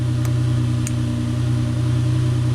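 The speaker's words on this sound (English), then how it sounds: "There's an exhaust leak. There's a big old hole in the muffler there, but idle wise it's pretty steady." A Nissan Murano engine idles steadily with an exhaust leak through a big hole in the muffler, giving a loud, continuous low drone with a faint tick or two and no talking.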